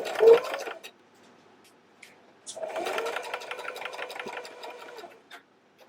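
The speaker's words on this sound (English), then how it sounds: "Make sure you always back stitch right when you start." A sewing machine stitching a fabric wristlet keychain: a short burst of whirring stitches, a pause, then a longer steady run of rapid mechanical stitching, close and clear.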